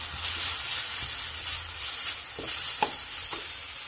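Chopped tomato fries in a hot pan, giving a steady close sizzle broken by a few stirring scrapes and knocks, with no voices.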